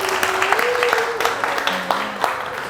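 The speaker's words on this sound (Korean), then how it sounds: "큰 박수로 모시겠습니다" A short burst of applause greets an elderly village bereaved-families association leader at a Jeju April 3 commemoration, with clapping under a voice speaking throughout.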